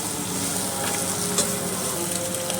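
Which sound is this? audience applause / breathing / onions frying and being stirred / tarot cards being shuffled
onions frying and being stirred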